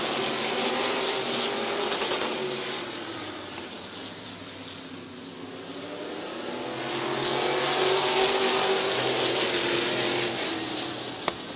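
Race cars roaring around a speedway oval at Midvale Speedway on a green-flag restart, a loud continuous engine drone that dips slightly midway and then swells again as the pack comes closer.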